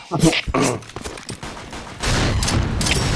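Rapid bursts of AUG rifle gunfire in the shooter game Point Blank, sharp cracking shots in quick succession mixed with game sounds and someone talking over them.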